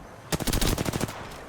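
Rapid bursts of automatic gunfire from the video game Apex Legends, a dense volley of roughly a dozen closely spaced shots lasting about a second, loud and close, then dropping off.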